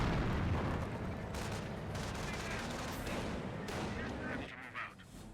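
Artillery shells landing in a Company of Heroes battle, a dense, heavy rumble of booms and blasts filling the scene, loud and continuous with a faint voice underneath.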